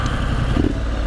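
A Triumph Street Scrambler motorcycle engine runs loud and close, a steady low rumble that holds level throughout with no pauses or voices.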